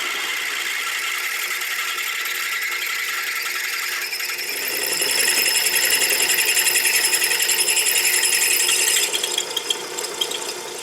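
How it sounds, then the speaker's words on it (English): Drilling on a South Bend 11 lathe with the quill locked tight, a steady mechanical grinding and ratcheting that grows louder and harsher midway, then eases slightly near the end, with no talking. "that's why it looked like I was working so hard to drill this"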